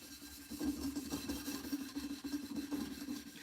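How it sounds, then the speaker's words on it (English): Steel wool scrubs a pot by hand with steady back-and-forth rubbing strokes, a close, moderately quiet gritty scraping repeated rhythmically. "So what you can do is go with your steel wool."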